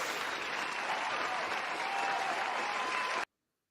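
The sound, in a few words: applause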